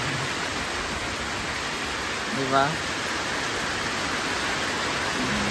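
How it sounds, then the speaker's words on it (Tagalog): Heavy rain falls without a break, a dense, even hiss that fills the scene from start to end, with one short spoken word partway through. "Lakas pa rin ang ulan, walang tigil."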